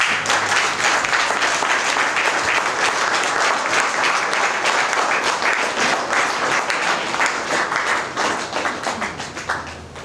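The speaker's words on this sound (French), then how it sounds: "Applaudissez-moi s'il vous plaît." Wedding guests applaud at a civil wedding ceremony in a hall, a dense, steady clapping close by that holds for about ten seconds before thinning slightly toward the end.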